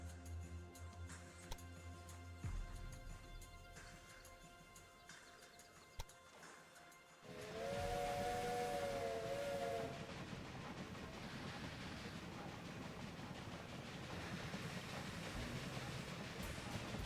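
Trains running in the Railway Empire video game, with a quieter rumbling stretch giving way to a loud, steady rail roar carrying a brief high squeal, continuous to the end.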